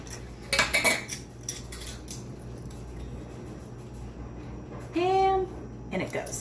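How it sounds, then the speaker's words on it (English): A metal spoon scrapes and clinks against a container while a tablespoon of yeast is measured for easy homemade bread, with a few close clinks, a short ringing tone, and a voice speaking. "you're going to measure out a tablespoon of yeast."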